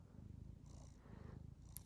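A pet cat purring close up, a soft rhythmic rumble pulsing steadily throughout with no talking.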